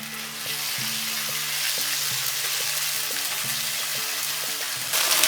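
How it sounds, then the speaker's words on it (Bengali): Ginger garlic paste and black cumin frying in hot oil for a fish curry, a steady loud sizzle with a few light utensil taps and scrapes, swelling sharply near the end as the paste hits the pan. "কালো জিরেটা বেশ ভালো করে ভেজে নেওয়ার পরে এখানে দিয়ে দিচ্ছি 1 টেবিল চামচ আদা রসুন বাটা"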